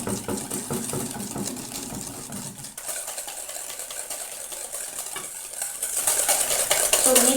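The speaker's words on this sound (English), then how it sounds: "with the same whisk, we're going to mix the yolks and the sugar" A whisk beats egg yolks and sugar in a bowl for tiramisu, a brisk rhythmic scraping and tapping against the bowl, close and continuous, growing slightly louder toward the end.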